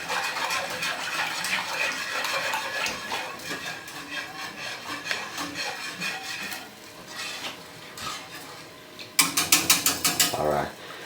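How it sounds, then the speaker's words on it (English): A whisk stirring a macaroni and cheese sauce in a pot, close repetitive metallic clinking and scraping, with a faster, louder rhythmic burst of whisking near the end. "Then we're gonna simply use your whisk to give it a little whisk."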